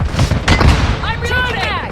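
Grenade blast in the mobile shooter Warzone Mobile: a couple of heavy booms and thumps amid gunfire, followed by ringing tonal game sounds, with radio-style voices calling out over the combat.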